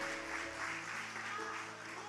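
A church congregation claps together in a steady, dense patter that fills the whole moment, with sustained musical tones underneath and no one speaking.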